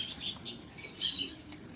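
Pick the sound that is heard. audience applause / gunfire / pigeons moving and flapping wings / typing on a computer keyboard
pigeons moving and flapping wings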